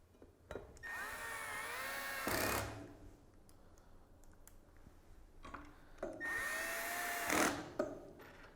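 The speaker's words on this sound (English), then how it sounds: "And then driving the rest of the screws in." A power drill drives screws into the leg of an Archie piece during assembly: two sustained whirring runs that rise in pitch, each ending in a brief loud burst, with small clicks and taps between them.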